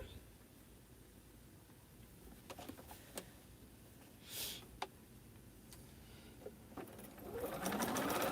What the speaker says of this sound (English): I'm just sewing them into fabric pieces that can be usable